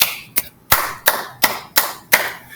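Children do a Tyrannosaurus clap with arms held close together, giving six sharp, evenly spaced claps about a third of a second apart, fairly close and clear with no talking.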